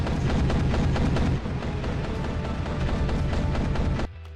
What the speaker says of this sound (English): It's got a little more recoil, but the AA-12, absolute classic.